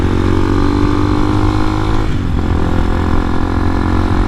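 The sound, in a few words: 250cc enduro dirt bike riding uphill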